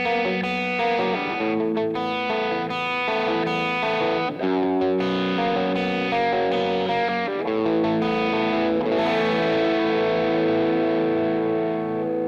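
A distorted electric guitar through a Wampler Paisley Deluxe Drive pedal, voiced like a Trainwreck amplifier, plays sustained overdriven chords and notes, thick and saturated, continuously for the whole stretch with no talking.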